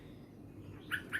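A young straw-headed bulbul (cucak rowo) gives two short, bright chirps near the end, close and clear over a quiet indoor background.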